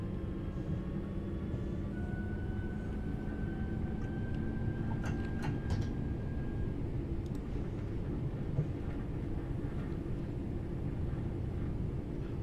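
Train running through snow in Ollie's Trains driving simulator game, a steady low rumble of wheels and motor with faint clicks and a long rising whine, continuous throughout with no talk.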